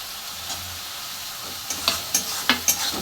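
Chopped tomato sautés in a pan for fish curry, a gentle steady sizzle broken by several quick spatula scrapes and taps toward the end.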